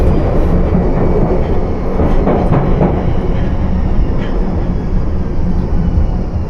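A London Underground Piccadilly Line train in central London slows for the next station at night, a loud close rumbling roar with rattling wheels and a rising brake hiss, no talk.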